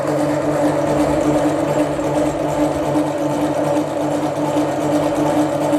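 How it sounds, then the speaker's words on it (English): A stand or hand electric mixer whips royal icing to fluffy peaks, giving a loud, steady motor whir with a constant mechanical hum that runs unbroken throughout, no voices. "A couple of more minutes of the whisking and then it'll be ready."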